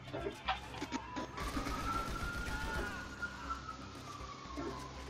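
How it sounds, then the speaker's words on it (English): A faint police siren in Grand Theft Auto V wails with a rising and falling tone, set low beneath a noisy, busy game background with scattered clicks. "Why do I hear siren?"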